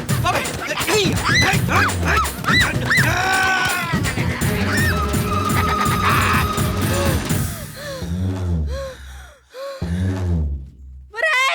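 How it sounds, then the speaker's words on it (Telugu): A dog barks in short bursts among loud, overlapping human shouting, with some bleating-like animal calls mixed in before things quiet down. "కుక్క కుక్క వదులు."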